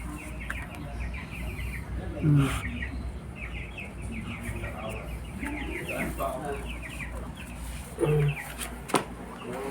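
Newly hatched duck chicks chirp in rapid, high, continuous peeps, with a few louder clucks and a voice speaking faintly beside them.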